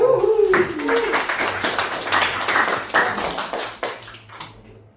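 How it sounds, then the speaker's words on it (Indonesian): Scattered clapping from an audience at a student talk show, a series of irregular close claps that taper off, with a brief voice at the start. "Jadi tepuk tangan yang meriah."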